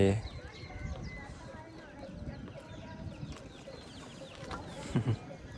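Chickens cluck intermittently in the background of an outdoor yard in a Hmong village in Laos, with a louder burst of fowl calls near the end.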